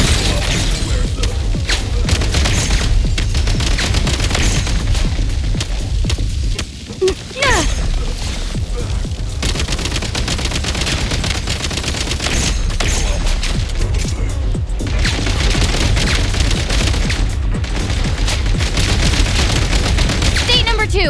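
Heavy gunfire rattles through a video game battle in frozen Silent Lands, with dense bursts, booms and crashes running almost without pause, voices mixed into the din.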